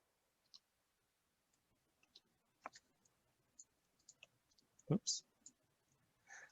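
Faint, sparse clicks of a computer mouse come in a quiet room, a few scattered single taps and then a louder double click near the end, with no one talking.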